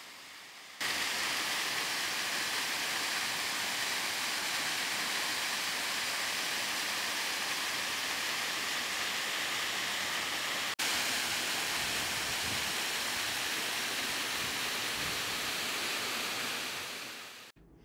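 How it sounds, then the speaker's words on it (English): Steady, dense rush of a waterfall in a gorge, loud and continuous with no pauses, with a brief click partway through before it fades out at the end. "Now, there are waterfalls here."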